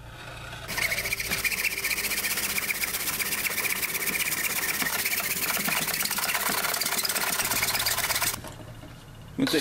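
An angled cut through the base of a PVC pipe for a rebar catfishing rod holder makes a steady, dense, continuous grinding noise that runs about eight seconds before stopping abruptly, with no talking.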